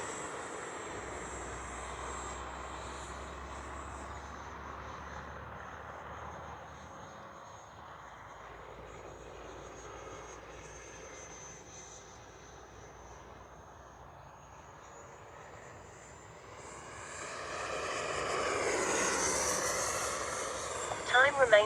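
A Freewing F9F-8 Cougar 80mm electric ducted-fan RC jet whines steadily overhead at about half throttle, distant through the middle and swelling louder as it makes a close pass near the end, with brief talk over it.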